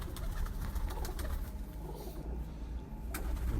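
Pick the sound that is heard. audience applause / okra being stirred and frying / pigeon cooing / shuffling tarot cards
pigeon cooing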